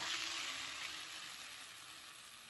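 Chicken pieces sizzle in a pan with fried onion and tomato for chicken thokku, a soft continuous hiss of frying that gradually fades slightly, with no talking.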